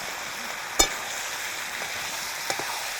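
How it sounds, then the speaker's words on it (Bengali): Mutton sautés in a pan with turmeric and chili powder, a low steady sizzle broken by one sharp utensil clack and a softer tap later. "হলুদের গুঁড়ো আর একটু লঙ্কা গুঁড়ো দিয়ে দিচ্ছি সাথে সাথে বন্ধুরা এইবারে কষিয়ে নেব ভালো করে"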